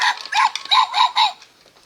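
Several quick, bright yips and barks from a dog in a short, uneven burst that fades out, with no other sound around them.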